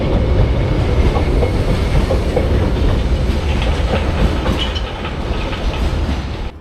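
A London Underground Piccadilly line train rumbles past a platform, a loud, steady roar with rhythmic clickety-clack of wheels over rail joints, fading slightly at the end.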